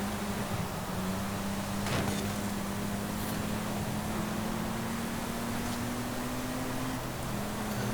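Low-revving car engine in the video game Forza Horizon 5, a steady deep drone holding one low pitch at an even, moderate level for the whole stretch, with no voices.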